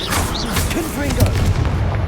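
A Confringo fire spell explodes in Hogwarts Legacy, a loud, dense booming blast that fills the whole moment, with a voice-like tonal layer running underneath.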